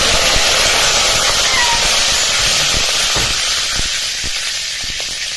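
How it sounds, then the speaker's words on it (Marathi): Curry leaves hit hot oil already crackling with mustard seeds and cumin for a green peas curry tempering, giving a loud, close, steady hiss with scattered pops that eases slightly toward the end. "फोडणी चांगली तडतडली की याच्यामध्ये कढीपत्ता घालून"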